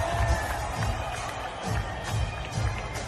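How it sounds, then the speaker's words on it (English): A UFC arena crowd roars in a broad wash of cheering, with low rumbling surges and faint scattered clapping mixed in throughout. "you can just hear the crowd erupt"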